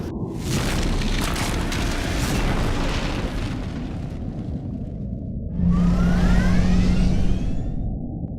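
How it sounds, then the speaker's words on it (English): Starship phasers firing in the video game Star Trek Legacy, a loud sustained roaring blast followed after a brief dip by a second surge with a rising whine and a steady tone, close and dense, no speech. "Stand by to fire phasers."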